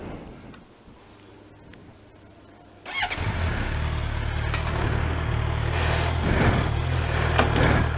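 A motorcycle engine starts after a quiet stretch and settles into a steady, close idle to turn the drive chain during cleaning and lubing.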